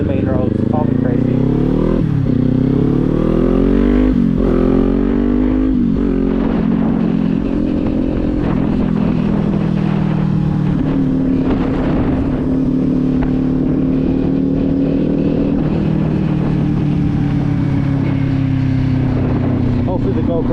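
A motorcycle on main roads in strong wind, recorded from the rider's position. The engine drones loudly and continuously with rising and falling revs, and heavy wind buffeting roars over it throughout.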